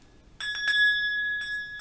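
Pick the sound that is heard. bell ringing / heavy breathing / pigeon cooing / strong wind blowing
bell ringing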